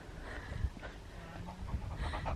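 Quick, soft rhythmic panting from a dog close by, breathy and continuous over a brief moment, with faint background noise.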